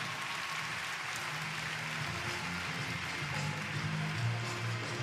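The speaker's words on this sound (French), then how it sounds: "Une nouvelle fois, vos applaudissements, s'il vous plaît, pour Paul et Douchka." Sustained crowd applause at a pony show jumping Grand Prix in Bordeaux, a continuous even patter of many hands heard at a distance under a faint background tone.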